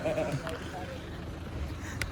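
A person imitates a billy goat's bleat, giving a short wavering nasal call over a busy outdoor background at a fort, with other voices talking around it.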